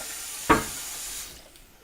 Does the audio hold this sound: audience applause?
no